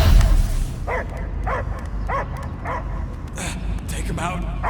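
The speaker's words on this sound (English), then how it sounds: "I hear only barking." Dog barking in the video game Guardians of the Galaxy, a series of about six regular barks or yips spaced roughly half a second apart over a low rumbling game soundscape.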